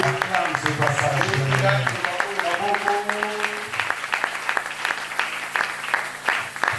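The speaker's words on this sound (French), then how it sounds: "Est-ce que tu peux acclamer ce passage?" A church congregation at a Sunday service breaks into steady applause with scattered cheers, the clapping loud and continuous throughout, with voices mixed in.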